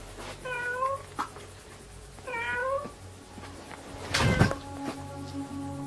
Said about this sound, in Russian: здесь может быть кот какой-то живет